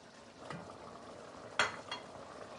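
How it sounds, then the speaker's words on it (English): Onion is tipped into a hot pan and stirred, giving a quiet low sizzle with a couple of brief scraping clinks from the spoon against the pan. "Alright, we're going to add the remaining onion."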